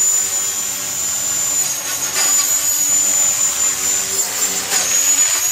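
A Trex 450 PRO RC helicopter flies at a park, its high, thin rotor and motor whine holding steady with slight wavering pitch, fairly close and continuous over faint background noise.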